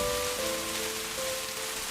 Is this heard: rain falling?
yes